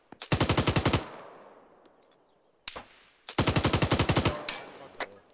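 Enemy automatic gunfire in Arma 3, two loud rapid bursts of about a dozen rounds each, separated by a few single shots, close and sharp, with no one talking.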